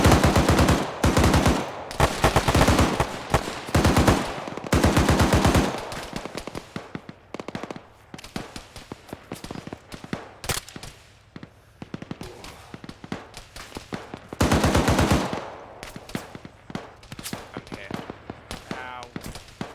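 Bursts of rapid machine gun fire and single gunshots in a combat firefight, loud and close, with heavy volleys at the start and again midway, sparser shots between, and shouted voices over the shooting.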